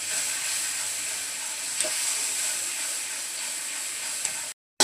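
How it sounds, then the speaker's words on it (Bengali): Spice masala of ground spices and coriander powder is sautéed in a pan for hilsa fish curry, with a steady hissing sizzle and faint stirring taps before it cuts off abruptly near the end. "এখন মশলাটাকে ভালোভাবে কষিয়ে নেব"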